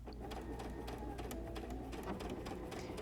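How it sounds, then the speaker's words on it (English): A sewing machine stitches fabric around a circle for reverse appliqué, its motor running in a steady, fast, rhythmic hum with needle clatter and no talking. "we would just continue to stitch all the way around the circle, staying pretty close to the edge"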